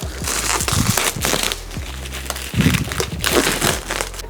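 Thin plastic protective film peeled and crinkled off a new car headlight bulb during a bulb change, giving irregular crackling rustles with a few louder crinkle bursts, close and alone.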